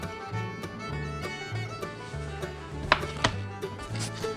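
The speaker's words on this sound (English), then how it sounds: "you slice it to whatever thickness you want" A knife chops through a marked-down sausage on a cutting board for jambalaya, a quick series of crisp, close knocks against the board with a louder pair of strikes near the middle and no talking.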